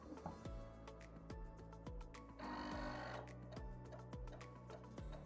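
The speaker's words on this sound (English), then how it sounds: "you can hear it going through each of the different tracks as it's formatting" A NABU PC floppy disk drive formatting a single-sided 48 tpi disk steps its head track by track, giving a steady series of sharp mechanical clicks about every half second, with a brief buzzing whir in the middle, close and clear.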